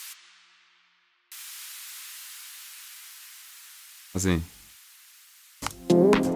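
A downlifter synth effect built in Ableton Operator with a long release: steady broadband hiss-like noise swells in and slowly fades over several seconds, with a brief spoken word and more talking near the end.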